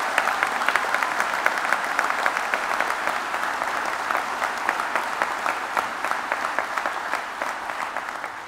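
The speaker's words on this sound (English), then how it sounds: "could we have an extra round of applause for those wonderful students?" A hall full of people at a criminal justice studies graduation ceremony applauds the graduating students. The clapping is sustained, dense and even throughout, with no talk over it.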